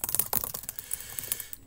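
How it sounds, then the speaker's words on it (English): Rapid, close typing on a computer keyboard during a Google Kickstart coding contest, a dense run of crisp clicks and clacks with no talking. "So I'm just going to start typing."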